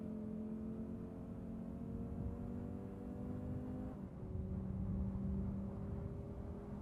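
Race car engine drones steadily in a racing video game, holding a sustained revving tone that dips briefly partway through before continuing, loud and close with no talking.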